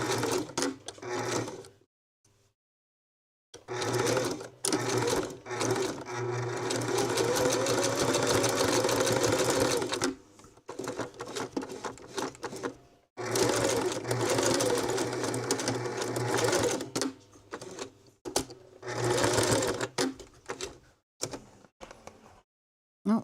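A sewing machine runs zigzag stitching on a coiled rope bowl, sounding in several long bursts with short pauses between them, fairly close and steady, with no talking over it.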